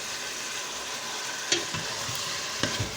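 Minced meat for a tomato sauce sizzles and fries steadily in a pan, with a few sharp clinks of a utensil against the pan near the middle and end.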